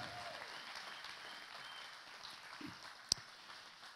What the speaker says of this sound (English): give all these five a big round of applause